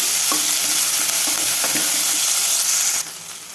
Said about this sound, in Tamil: கருவேப்பிலை கொஞ்சம் போட்டுக்கலாம் எல்லாம் நல்லா கொஞ்சம் வதக்கி விட்டுக்கலாம்